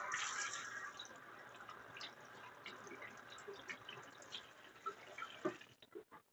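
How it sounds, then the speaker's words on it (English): Tap water runs steadily while hands are rinsed at a sink, a close, continuous wash of water with small splashes, ending abruptly as the flow is shut off. "Get a spoon after I rinse off my hands here."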